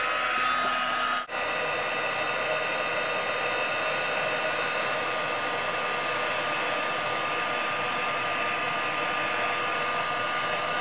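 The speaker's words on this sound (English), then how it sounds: "now that I have the clear embossing powder on these, now I'm going to use the heat tool" A handheld heat tool, used to melt clear embossing powder for a card craft, blows with a loud, steady whirring hiss. The airflow dips briefly near the start, then runs on unbroken.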